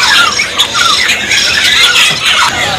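Starlings, white starlings and Asian pied starlings among them, calling at a bird kiosk: a busy, continuous chatter of loud squeals and squawks from several caged birds close by, with no talking.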